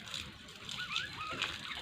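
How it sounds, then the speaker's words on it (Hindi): Water sprays and splashes from a homemade pump built from a room cooler motor, a steady rushing slosh close up with no speech. "वाह क्या अच्छा पानी फेंकती है यार मोटर, बहुत ही लाजवाब मोटर है ये।"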